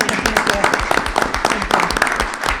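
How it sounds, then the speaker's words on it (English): Audience applause at a school district board of education meeting for a new board member, a brief stretch of dense, steady clapping from a small crowd at moderate loudness with voices mixed in. "let's give her a round of applause"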